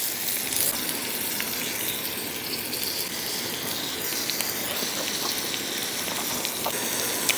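Food sizzles on an outdoor grill on a rainy day, a dense, even crackling hiss that carries on without a break, no voices.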